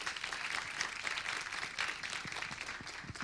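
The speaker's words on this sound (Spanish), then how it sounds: "un aplauso para el doctor Pedro Rivas Nieto" Applause from a lecture audience for a speaker at an academic seminar on peace processes, scattered and fairly faint, with distinct individual claps sounding through a moderate wash of clapping.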